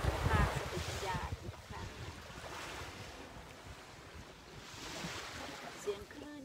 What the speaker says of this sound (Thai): เสียงคลื่นที่เราได้ยิน